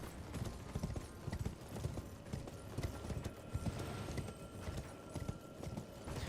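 Horse hooves galloping at a sprint in Elden Ring on the Altus Plateau, a steady rapid clip-clop rhythm of thuds running continuously at moderate loudness with faint background game ambience.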